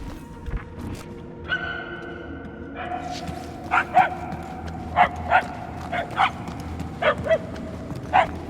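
Dogs bark in the Knowhere warzone of the video game Marvel's Guardians of the Galaxy: a string of sharp, moderately distant barks repeats roughly every half second over a low ambient hum and faint tonal music.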